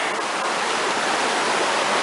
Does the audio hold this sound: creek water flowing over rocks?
yes